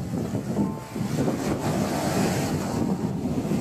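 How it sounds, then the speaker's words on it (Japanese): Waves wash onto a small sandy beach beside a fishing harbor in a rural Okinawan village, a steady surf roar with heavy wind buffeting the microphone throughout. "港のそばに少しだけ砂浜が残っております。"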